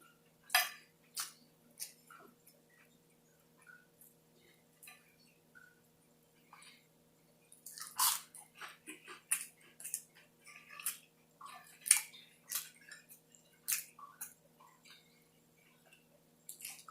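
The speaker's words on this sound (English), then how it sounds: "I can't talk because I'm chewing" Fried fish being chewed and bitten up close during a mukbang: soft, wet, intermittent crunches and smacks come in scattered bursts, with occasional light clinks of cutlery against dishes between quiet pauses.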